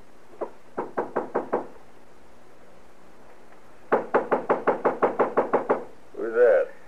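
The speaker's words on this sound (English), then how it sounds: "knock on the door" Knuckles rap on a wooden door as a sound effect in an old-time Western radio drama, two quick bursts of sharp, close knocks, the second longer, followed by a brief spoken voice.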